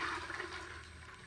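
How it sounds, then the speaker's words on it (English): Broth for hand-cut noodles is poured back into a pot, a brief rushing, splashing pour of liquid, fairly quiet and alone. "what you're going to want to do is pour this broth back into the"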